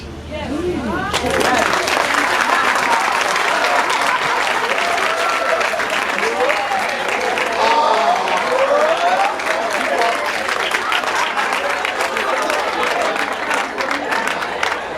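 Church audience clapping loudly and steadily at a singles event, a dense, sustained round of applause with crowd murmur mixed in, heard close and without talk over it.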